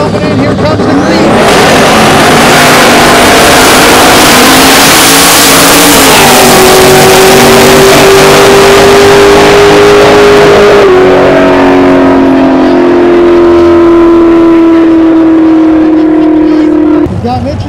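A drag race car launches at Great Lakes Dragway in Union Grove, Wisconsin, during a 2015 King of the Street event, its engine roaring loud and climbing in pitch as it accelerates down the strip, with commentary talking over it.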